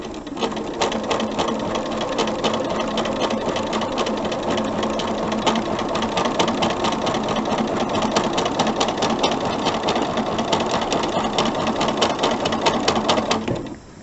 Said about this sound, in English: And then I'll sew a 1/4 inch from that line.